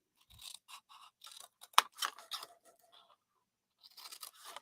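Scissors snip through paper pieces for a handmade craft box, a series of close, crisp cuts with short pauses between strokes, no talking.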